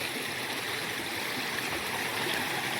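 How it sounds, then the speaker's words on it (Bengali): Mountain stream water in the hills of Purulia flows steadily in a continuous broadband rush, close and even, with no talking. "পাহাড়ি জল, এখান দিয়ে জল আসছে।"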